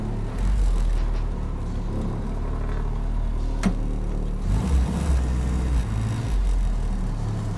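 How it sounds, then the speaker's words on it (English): A 1946 Willys driving along with a steady low engine rumble and road noise, with the rear seat clattering and rattling loosely over the drone, including a sharp knock midway. "That rattling you're hearing is the rear seat."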